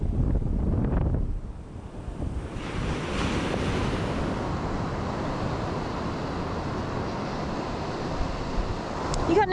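Strong wind buffets the microphone over steady surf on an open South Australian beach during surf fishing, a loud continuous roar with gusts rising and falling, no voices.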